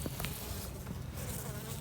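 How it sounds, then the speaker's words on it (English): A dense, steady buzz of many honeybees swarming close around a hive, a continuous humming drone with no talking. "There was bees coming out of this hive."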